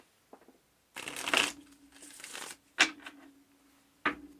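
Tarot cards being shuffled in short, crisp bursts of riffling, with a couple of quick flurries and a few brief snaps, close by and with no talking.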